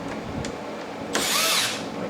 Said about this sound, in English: So I'm getting all of my screws tight all along this way.